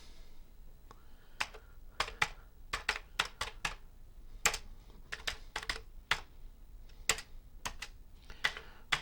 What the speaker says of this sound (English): I think the keyboard needs a good cleaning